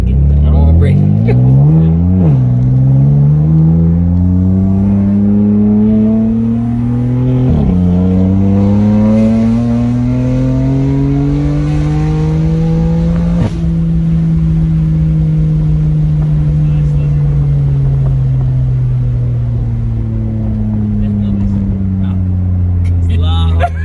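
A BMW F80 fitted with VRSF intakes, charge pipes and a top-mounted intercooler revs loudly up close, its engine note climbing and dropping through several rising and falling sweeps, with people talking during it.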